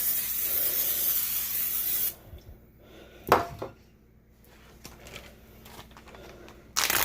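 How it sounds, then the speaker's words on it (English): A short burst of aerosol cooking spray hisses onto a pan, followed by quieter kitchen clatter and another brief spray at the end. "I'm going to spray some Pam on there so it doesn't stick"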